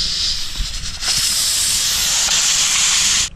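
Pressure cooker of boiled chickpeas being taken off the stove, releasing a loud, continuous rushing hiss of steam that cuts off abruptly at the end, preceded by a few clanks.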